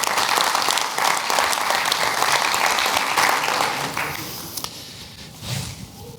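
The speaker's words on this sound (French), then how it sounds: "je pense que vous pouvez les applaudir" A conference audience at a Capgemini Sogeti keynote applauds loudly in a large hall, sustained many-handed clapping that fades away after about four seconds, leaving a few stray claps and room noise.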